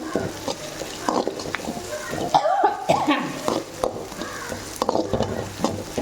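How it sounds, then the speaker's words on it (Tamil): Onion, ginger and green chilli fry in oil while being stirred, a moderate sizzle with scraping strokes. A voice talks over it, and a cough breaks in midway. "இப்படி இந்த மாதிரி வதக்கிக்கிட்டே இருக்கணும், நல்லா வதங்கணும்"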